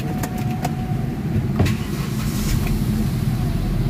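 A gasoline Hyundai Accent engine, previously misfiring on cylinders 1 and 2, idles steadily with a low rumbling drone and a few brief clicks, nearby and continuous, with no talking.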